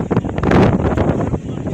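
Strong wind buffets the microphone in rough, continuous gusts during a wildfire spreading toward houses, with a low rumble throughout and no clear voices.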